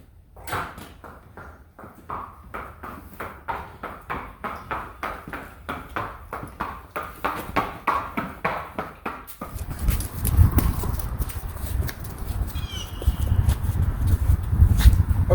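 A horse walks out toward the arena, hooves clip-clopping in a steady, evenly spaced rhythm that gets louder as it nears, then changes to a rougher, rumbling scuffle over wet ground.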